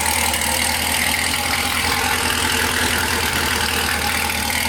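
A Corvette C7 Z06 fitted with longtube headers idles with a loud, steady, deep rumble and a fast, even pulsing throughout, close up and alone without voices.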